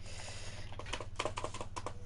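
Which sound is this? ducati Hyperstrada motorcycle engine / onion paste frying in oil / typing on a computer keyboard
typing on a computer keyboard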